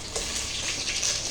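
Garlic and green chili sizzle steadily in hot oil, a close, continuous crackling fry with brief bursts of spattering and no voices.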